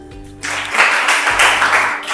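Classroom applause after a teacher praises a student's question, a short burst of clapping that starts about halfway in and carries on to the end, with a low hum audible beneath it.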